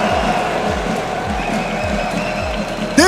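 A large arena crowd at the Rocket League World Championship cheers and applauds in a steady, dense roar, with a sharp burst near the end.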